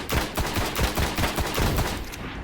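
Rapid bursts of gunfire from the video game Destiny, including powerful enemy sniper rifle shots, crack out in a steady rhythm of loud, close shots layered over one another.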